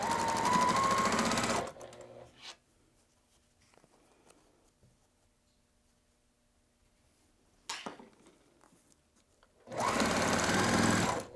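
A sewing machine stitches quilt block pieces in two rapid bursts, one at the start and one at the end, with a quiet stretch between them broken by a brief clack.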